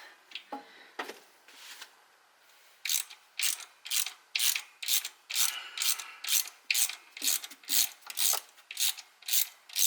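Ratchet wrench clicking as it backs out a rough, stripped bolt on a GM C1500 pickup, with about a dozen loud, evenly spaced ratcheting bursts after a few quieter scrapes, up close with no talking.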